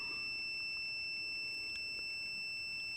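Continuous, even beeping tone from a multimeter continuity test on an automotive fuse runs unbroken from start to finish, near and steady, with a faint tap in the middle and no talking.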